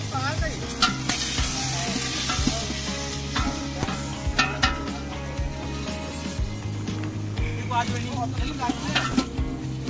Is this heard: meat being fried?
yes